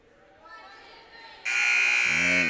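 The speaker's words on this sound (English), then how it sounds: "So the buzzer will sound, and the teams will get ready to break huddle and come back out onto the floor." A loud, sustained electronic buzzer sounds during a 7th grade girls basketball game in a gym, starting abruptly and droning steadily for over a second while a voice talks beneath it.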